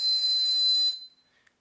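A plastic bird call mimicker blown with no water inside gives one steady, shrill high whistle lasting under a second, then cuts off, followed by a faint brief chirp.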